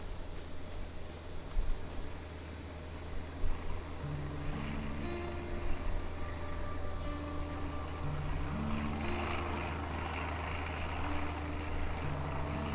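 A propeller plane passing overhead in the survival video game Surroundead, a steady low drone with a rising wash of noise as it draws nearer, fairly loud and continuous under game ambience.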